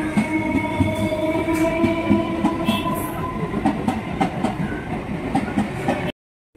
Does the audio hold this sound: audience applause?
no